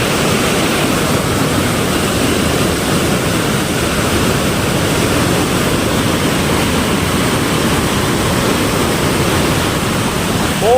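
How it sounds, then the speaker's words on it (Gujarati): A stream swollen by monsoon rain rushes hard and steadily, a loud, dense, unbroken roar of water close by with no voices over it. "તમે ખાલી પાણીનો અવાજ સાંભળો,"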